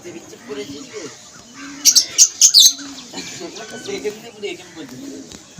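Pigeons being readied for a pigeon tournament give a few short, bright chirps and calls in a brief cluster, while someone talks throughout over them.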